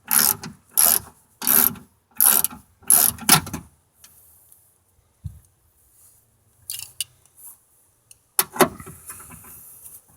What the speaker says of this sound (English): I'm just going to remove the next 2 bolts